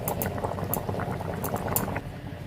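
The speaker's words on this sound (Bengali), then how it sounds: "আমার ঝোলটা ফুটে উঠেছে" A pot of rui fish curry with yam and potato boils hard, giving close, steady bubbling and gurgling with quick liquid pops and no voices.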